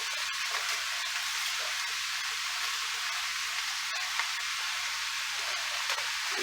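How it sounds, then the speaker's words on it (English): Vegetables and two onions sautéing in a pan make a constant, moderately loud sizzle, with a faint scrape of stirring now and then and no speech. "I'm going to saute these until they get soft with 2 onions"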